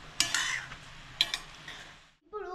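A spoon scrapes and stirs ghee into carrot halwa in a pan, with a few sharp clinks against the metal. Soft sizzling runs underneath, and a brief voice sounds right at the end.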